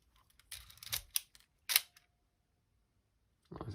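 An Olympus OM-4 film camera's mechanical shutter fires in a quick cluster of crisp clicks and a sharp snap, close and fairly quiet, followed by silence and then another click.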